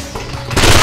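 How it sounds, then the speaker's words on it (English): Rapid automatic gunfire in the video game Nightfire, a short, loud burst that swells in the second half of under a second, with no talk. "There's a gunfire coming from elsewhere."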